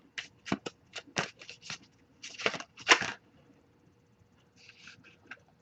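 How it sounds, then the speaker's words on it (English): Tarot cards are shuffled in close, crisp bursts of riffling and flicking, several quick rapid shuffles in a row, then a pause before a softer final flurry. "I'll give it a few more shuffles before we move on."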